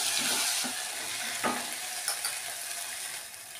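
Ginger paste frying in a little oil in a pan while being stirred for a mutton curry, giving a steady close sizzle broken by a few soft scraping strokes, with no voices.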